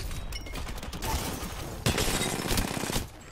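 Video game gunfire crackles in a dense rapid volley, then one sharper, louder shot cuts through near the middle, with mechanical clatter around it.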